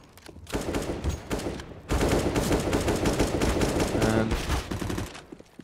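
Rapid gunfire in a competitive CS:GO match, P250 pistol among it, crackles in dense bursts and exchanges across several seconds, loud and busy, while a commentator talks briefly.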